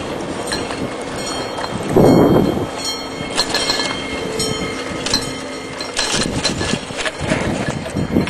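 Steady rumble and rattle of a train carriage interior as it pulls away, with wheel and rail clatter, a louder surge near the start and some brief squeals, ongoing throughout.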